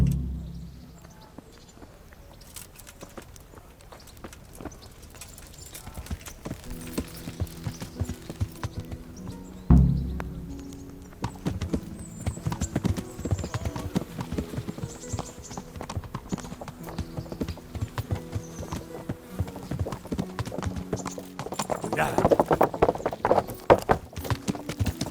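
Horse hooves clip-clopping in the video game Kingdom Come: Deliverance, a dense run of light, rapid hoof strikes lasting the whole stretch at moderate volume, with a low droning tone in the background and a sharp thump partway through.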